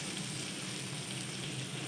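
Beef liver sizzles in ghee with green chillies just added, a steady, close hiss of frying that continues unbroken with no talk over it.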